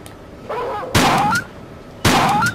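Two sharp gunshots from an enemy gunman in a Tomb Raider level on an offshore rig, loud close cracks about a second apart, each with a short ringing tail.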